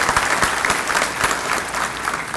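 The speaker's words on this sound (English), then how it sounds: "let's give Reed Hare applause in his absence" A breakfast gathering on a university campus breaks into sustained applause, many hands clapping in a dense, even wash with a few sharper individual claps standing out nearby.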